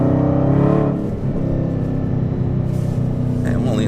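A Dodge Hellcat with an H-pipe and muffler delete accelerates in second gear, giving a loud, deep, steady engine roar that dips briefly and then holds strong throughout, with a voice talking over it.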